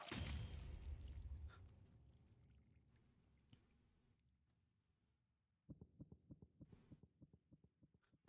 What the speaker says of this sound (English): The heartbeat sound.